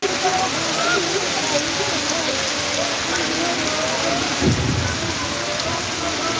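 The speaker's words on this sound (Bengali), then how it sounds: "প্রচুর বৃষ্টি" Heavy rain pours down steadily at a shrine in Sylhet at night, a dense constant hiss with a low rumble of thunder about two-thirds through and faint voices underneath.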